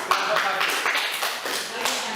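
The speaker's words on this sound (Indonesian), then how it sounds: "kita berikan aplaus untuk kelompok satu" A classroom of students applauds a presenting group, a dense patter of many hands clapping close by, with voices mixed in the background.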